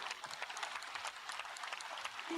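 An audience applauds in a quiet, distant patter of many hands, steady and even for the whole stretch with no voices over it.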